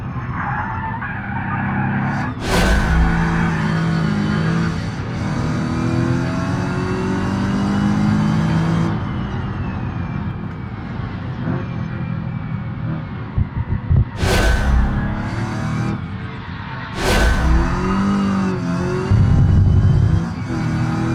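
Car in BeamNG racing simulation with open differentials, rear end sliding out, engine revving steadily with repeated loud tire skids and squeals bursting over the drone.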